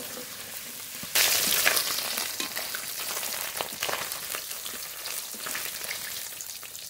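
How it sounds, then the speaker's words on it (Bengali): Shingi fish frying in a pan, a sudden loud sizzle bursting in after a quiet second and holding as a steady, close crackle. "মাছ খুব ভালো করে ভেজে নিয়েছি, নামিয়ে নেব।"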